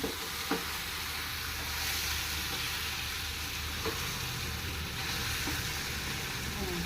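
Stuffed brinjal masala curry fries in hot oil with a steady, crackling sizzle, close by, with a few soft clinks of a spoon.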